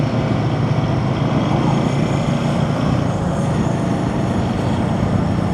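Continuous loud engine hum and wind roar from a Royal Enfield Himalayan 450 motorcycle climbing a hill smoothly, holding an even, unbroken tone throughout.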